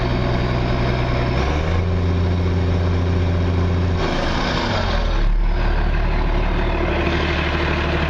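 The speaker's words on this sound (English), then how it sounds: "You can hear the turbo going well." A JCB Fastrac 155-65 tractor fitted with a straight-through exhaust, its turbo whistling over a steady loud engine drone that swells and shifts in pitch as the revs change, heard close up with no talking.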